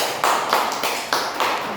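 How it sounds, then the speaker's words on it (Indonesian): A few students in an elementary maths classroom clap in short, even bursts, about five or six distinct claps, fairly close and moderately loud, with no talking over them. "Berikan tepuk tangan."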